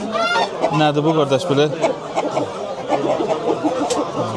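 Fowl sounds at the Sabunchu poultry market, where a rooster is sold, with short squawking calls and clucks mixed with a voice and background market chatter, nearby.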